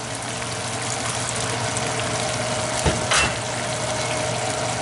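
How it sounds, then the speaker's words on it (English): Whiskey peppercorn sauce simmering in a pan on low heat and being stirred, giving a steady bubbling sizzle with a couple of soft scraping knocks from the spoon midway. "I'm going to stir this up just a little bit more"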